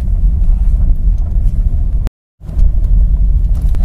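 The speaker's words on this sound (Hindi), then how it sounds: "इसको मैं अभी आराम से 2000 आरपीएम तक सेकंड गियर में पुल कर सकता हूं।" A car engine pulls steadily in second gear at around 2000 rpm, a loud, continuous low rumble that cuts out briefly midway before resuming.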